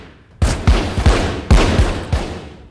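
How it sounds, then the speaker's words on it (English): Gunfire rings out in the VR game The Walking Dead: Saints & Sinners, a string of about eight sharp, loud shots in irregular bursts, each decaying quickly, with no talking. "I guess I just shoot everyone at this point?"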